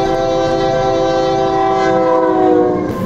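A loud, close train horn blares steadily over a rumbling, clattering passing train, holding one rich, sustained chord for about three seconds with no talking.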